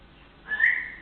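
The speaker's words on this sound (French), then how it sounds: "le coloc se met à siffler pour appeler son chien" A man whistles to call a dog: a single short rising whistle, clear and moderately loud, following a moment of quiet background.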